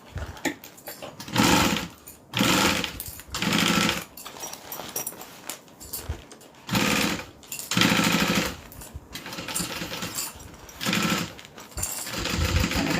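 A sewing machine stitches fabric in loud, steady bursts of rapid needle chatter, stopping and starting several times with short pauses between runs.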